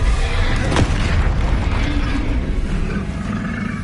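A Bombarda spell detonates in Hogwarts Legacy, a loud booming blast with a roaring rumble that sustains and slowly fades.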